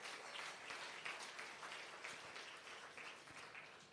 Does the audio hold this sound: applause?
yes